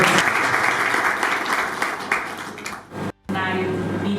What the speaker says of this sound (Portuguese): Posso uma salva de palmas?